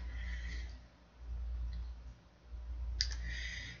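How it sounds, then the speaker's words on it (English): Computer mouse clicks while working in Blender 3D modelling software, a few soft, faint clicks over low background hum. "I'm going to right click that vertice and click mark root"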